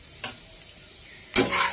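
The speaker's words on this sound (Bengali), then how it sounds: "ডালটা আমি খুব সুন্দর করে ভেজে নেব" Mung dal dry-roasting in a hot kadai, with a short scrape or stir and then a louder burst of crackling, rustling sizzle near the end; no voices.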